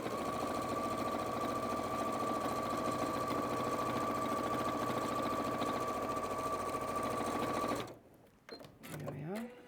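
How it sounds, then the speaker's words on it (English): Sewing machine running steadily while stitching a quilt, a loud continuous mechanical hum for about eight seconds before stopping abruptly, followed by a voice speaking. "sew along this side. Lock stitch again."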